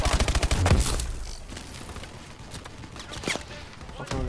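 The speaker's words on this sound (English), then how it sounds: "We'll give you some suppressive fire." Suppressive gunfire from the Call of Duty Advanced Warfare mission Throttle opens with a rapid burst of loud automatic shots, then trails into scattered distant gunfire over a battle rumble, with no voices.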